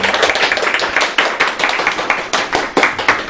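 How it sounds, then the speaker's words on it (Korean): A lecture audience gives dense, steady applause for the speaker after an investment talk on ELW trading, sustained across the whole stretch without pause. "유익한 강의해주신 김도영 대표님께 다시 한번 큰 박수 부탁드리겠습니다"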